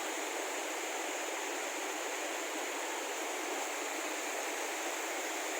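Small cascading waterfalls along a forest trail near Kemmangundi in Chikmagalur give off a steady, even rush of flowing water, constant and moderately loud for the whole stretch with no voices.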